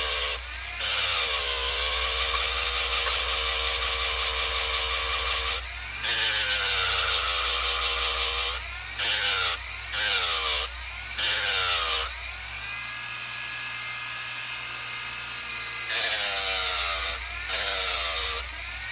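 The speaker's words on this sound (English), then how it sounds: "I'll take my Fordham with a very fine grit piece of sandpaper. I'm going to polish this anyway, so I'm just going to go back and forth" Back-and-forth sanding with very fine grit sandpaper while replacing the shield on a Case XX knife, a steady abrasive rasp in repeated strokes with brief pauses, close and alone.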